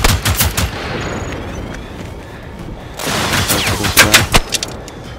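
Powerful gun in the game Generation Zero fired in rapid bursts, loud sharp cracks clustered at the start and again near the end with a quieter stretch between, no talking.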